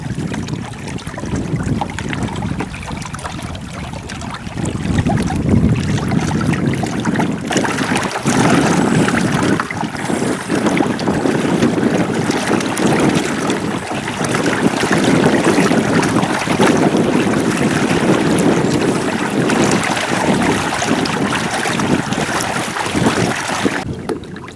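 A Hobie Tandem Island sailing kayak glides across a lake, with steady broadband wind buffeting the microphone and a soft wash of water along the hull running continuously and fairly loud throughout.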